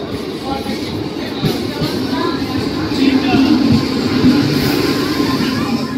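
The Panskura–Digha local train pulls into platform 1 at Panskura station: a low rail rumble and rolling clatter that grows louder toward the end, with a busy crowd murmuring in the background.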